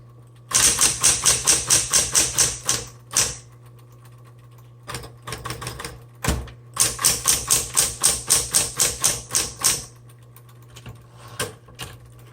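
Typing on a repainted 1960s Smith Corona Coronet manual typewriter with a 12-inch carriage, two loud bursts of rapid, evenly spaced key strikes separated by a few scattered single clacks, close and alone.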